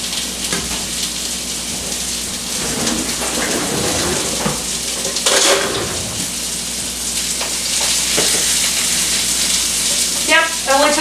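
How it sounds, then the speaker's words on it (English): Salisbury steaks browning in a preheated pan give a steady, close sizzle and crackle that runs the whole time, with a few brighter spitting pops near the end. "it only took about 2 minutes to brown it with the pan being preheated"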